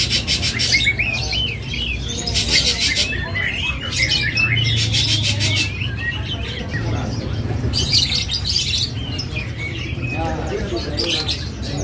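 Many small birds chirp and tweet in bright, overlapping bursts over a busy room murmur in an Indonesian bird shop, with occasional squawks and a low background hum throughout.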